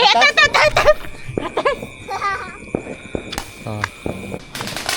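Firecrackers going off during Hari Raya Aidilfitri celebrations in Tanjong Karang, sharp popping bursts scattered through the clip, mixed with laughter and excited talk from people nearby.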